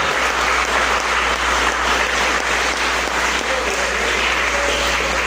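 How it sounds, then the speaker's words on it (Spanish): A congregation at a Spanish-language church anniversary service applauds loudly, a thick continuous roar of clapping from a crowd over a low steady hum. "Si lo va a aplaudir, apláudalo fuerte porque es para él"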